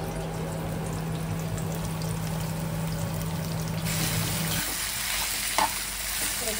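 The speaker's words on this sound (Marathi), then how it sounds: "मावशी मस्त कांदा फ्राय करून घेते।" Sliced onions for chicken biryani frying in a pan, a loud, steady sizzle with stirring scrapes, briefly shifting in tone partway through, with no voices.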